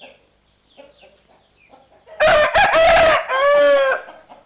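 A Burma breed fighting rooster crows loudly and close, one long multi-part crow after a quieter stretch of faint background sounds.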